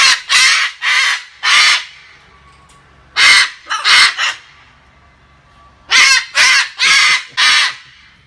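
A pet parrot outdoors at the front of a house squawks loudly and harshly, close by, in repeated bursts of three or four calls separated by short quiet gaps.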